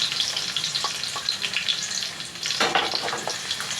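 Onion sautés in hot oil in a pan with garlic for chicken adobo, a close, steady sizzle with scattered crackles and a louder burst of spatter partway through, no voices.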